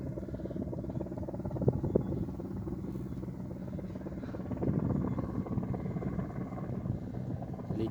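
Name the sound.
helicopter flying overhead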